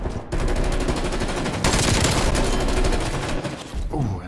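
Sustained automatic gunfire in the video game Call of Duty Black Ops Cold War, a loud continuous rattling burst that runs for several seconds before cutting off abruptly, then a brief trailing tail.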